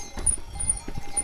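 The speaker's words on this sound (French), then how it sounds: "les moutons" A flock of sheep on a mountain trail in Auvergne, with jingling cowbell-like bells and soft shuffling of animals close by, no voices heard.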